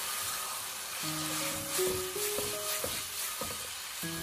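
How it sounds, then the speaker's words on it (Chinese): Garlic chives being stir-fried over high heat with tofu and pig blood, giving a steady close sizzle with scraping stirs. Soft tonal background music plays underneath. "开大火快速的给它翻炒一下"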